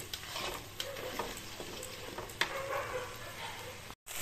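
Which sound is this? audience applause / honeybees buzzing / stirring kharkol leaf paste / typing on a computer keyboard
stirring kharkol leaf paste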